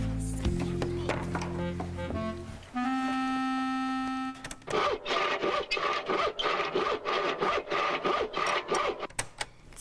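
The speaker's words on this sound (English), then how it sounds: "That sounds like a saw. Right, that's my grandfather sawing wood." A hand saw cutting through wood, played back from an old cassette recording, comes in after a stretch of steady tones and continues as rapid, rhythmic back-and-forth rasping strokes, fairly loud with no voices.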